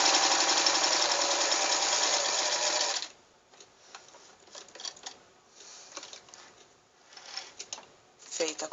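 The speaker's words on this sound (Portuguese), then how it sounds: "Regule o ponto da máquina tamanho 5, maior ponto, e faça uma costurinha em todo o contorno." Sewing machine set to its longest stitch sewing around the outline of rag doll fabric, a fast steady mechanical chatter for about three seconds, then quieter handling rustles and a brief final burst.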